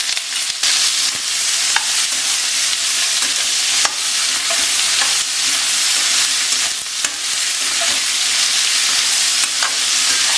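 Ash gourd pieces fry in a pan with a loud, steady sizzle, interrupted by repeated scraping and clanking strokes of a spatula stirring them.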